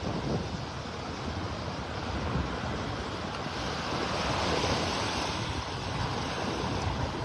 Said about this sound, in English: You can hear that wind blowing now.